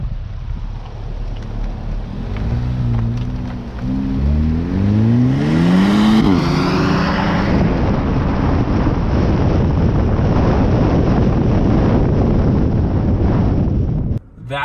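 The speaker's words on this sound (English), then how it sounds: "Oh Jesus, that N-Line took off." Hyundai Elantra N-Line launching hard from a standstill, its engine note rising steeply through a gear change amid heavy wind buffeting on the microphone, then settling into a loud steady roar.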